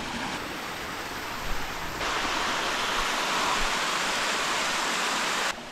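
Waterfall in western French Guiana rushing steadily as a broad, loud roar of falling water, holding constant for several seconds and briefly swelling louder partway through, with no voices.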